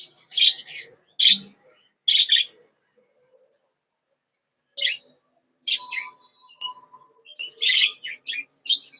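Budgerigars give sharp, high chirps and squawks in scattered short bursts, close and fairly loud, with quiet gaps between calls.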